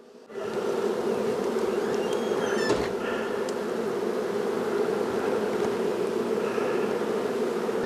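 Honey bees inside an opened hive during a spring inspection after a long winter, a loud, steady, close buzzing hum that swells in after a brief quiet start and continues without voices.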